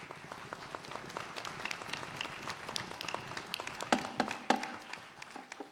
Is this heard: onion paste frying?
no